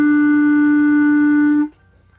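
A clarinet sustains a single E, fingered with the first finger and thumb, held steady and clear for about a second and a half before cutting off, played alone.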